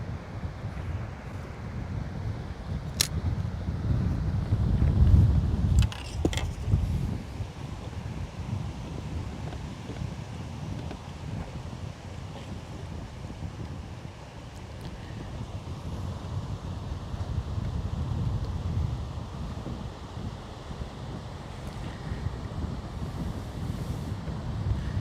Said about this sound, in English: the wind's blowing my shirt up, guys